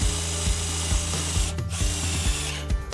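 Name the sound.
NRT PRO DC340 cordless impact drill drilling 3 mm iron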